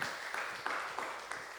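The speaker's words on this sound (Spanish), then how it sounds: "Démosle un aplauso al Señor" Applause for the Lord rises in a church congregation, a steady wash of many hands clapping at moderate distance, with a few sharper accents standing out over roughly a second and a half.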